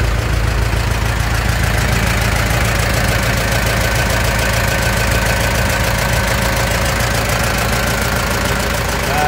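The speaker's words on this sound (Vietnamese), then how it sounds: "Con V52 đang nổ máy nha bà con." A Shibaura V52 tractor engine idles loud and close, a steady rhythmic diesel chugging and knocking that holds unbroken for the whole stretch with no voices.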